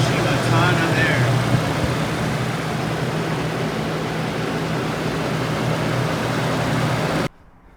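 A truck engine runs steadily with a modified Toyota FJ60 fan clutch pushing a strong rush of air, a loud continuous whooshing roar with a low hum, ending abruptly.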